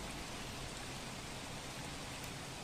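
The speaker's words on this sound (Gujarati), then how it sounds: "ધોધમાર વરસાદ સવારથી જ ફરી એક વખત શરૂ થયો છે।" Heavy rain pours down in Jamnagar during days of flooding, a dense, unbroken hiss of falling water that stays constant and even from start to finish, heard at a low level.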